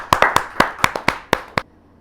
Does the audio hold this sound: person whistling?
no